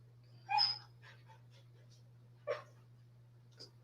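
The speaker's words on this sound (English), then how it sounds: "Hey, that's my dog." A dog lets out a sharp whimpering yelp, then a single short bark and a faint later whine, heard quietly indoors over a low steady electrical hum.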